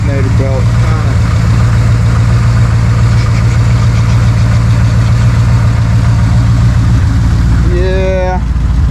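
A 1972 Dodge D100 truck engine idles loud and close through a newly fitted bolt-on exhaust, a steady low rumble with a worn alternator belt squealing faintly over it near the end.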